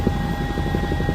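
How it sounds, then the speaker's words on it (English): A medical helicopter flies in toward a fire call scene, its rotor beating a steady, rhythmic thump under a continuous engine whine, loud and close throughout. "helicopters flying in like this"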